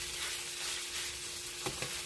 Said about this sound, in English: fry the meat first